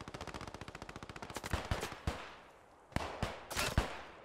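Rapid rifle and machine-gun fire in the Post Scriptum war game: a fast, even burst of shots at first, then scattered sharp cracks and heavier reports, moderately distant and echoing.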